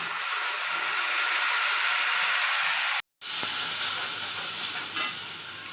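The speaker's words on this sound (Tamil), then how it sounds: "இப்போ புளி தண்ணி கரைச்சி வச்சுருக்கோம் அதையும் ஊற்றிக்கலாம்" A pan sizzles and hisses loudly, cuts out briefly, then resumes with the sizzle fading a little toward the end.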